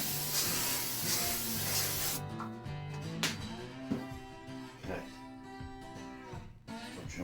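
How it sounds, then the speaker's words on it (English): A steady hiss of cooking spray onto a non-stick pan runs for about two seconds, then stops, followed by light clattering and handling sounds under a talking voice. "I'm just gonna give it a quick spray with"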